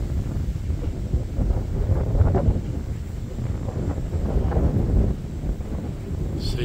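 Steady, loud wind buffets the microphone at the Miller lookout, a mountain viewpoint in Queensland, in a continuous low roar with no talking.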